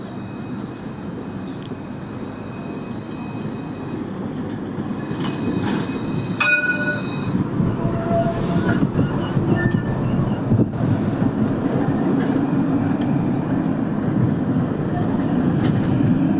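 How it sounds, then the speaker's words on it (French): Montpellier line 1 tram pulling into the Mosson terminus, a steady low rumble that builds as it nears, with brief high wheel squeals and a chime over the platform hum. "Et sur ce quai, donc la ligne 1 va arriver à son terminus."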